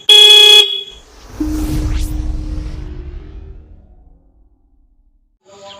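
A dual horn fitted to an old Hero Splendor motorcycle gives a loud, short two-tone honk, then a motor rumbles and fades away, and a second honk begins at the very end.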